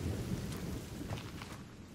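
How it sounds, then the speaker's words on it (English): Rain and rolling thunder in The Forest survival game, a steady low rumble with broad hissing rainfall that holds at an even, moderately loud level throughout, with no talking over it. "Oh, this is good timing for rain."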